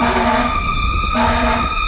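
A loud fire engine siren wails steadily, its tone rising and falling in two long sweeps, close and continuous.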